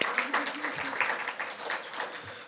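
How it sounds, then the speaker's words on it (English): A luncheon audience applauds a city council member at a chamber of commerce gathering, scattered moderate clapping from a smallish room with some voices mixed in, fairly quiet overall. "Let's give him a round of applause."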